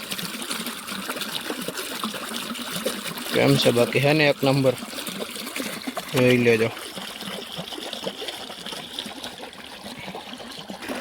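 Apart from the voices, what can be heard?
irrigation water flowing in a field channel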